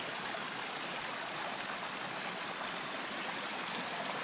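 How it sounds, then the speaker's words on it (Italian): Continuous broadband rush of a steep, fast stream with waterfalls in snowy countryside, steady and even throughout, with no voices over it. "Ecco l'attraversamento delle ripide acque di Torricella. Le mega cascate,"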